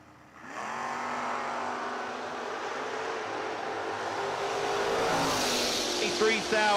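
Drag race cars launch side by side at a footbrake racing event, Jonathan McCandless in the Woody Wagon against Seth Phillips; a loud, sustained engine roar builds and swells after a quiet start.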